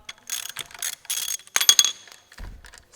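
A ratchet loosening a bolt during a timing belt change on a Honda B-series engine, with bursts of rapid clicking pawl strokes, close and crisp, followed by a low thud.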